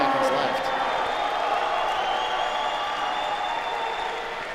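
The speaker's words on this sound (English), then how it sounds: "Love the crowd still getting behind him though." A crowd at a strongman competition applauds and cheers in a dense, continuous roar that eases slightly toward the end, with commentators talking over it.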